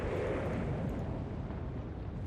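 Battleship exploding in the naval warfare game Atlantic Fleet, a loud sustained low rumbling roar with crackling debris noise, steady throughout with no talk over it.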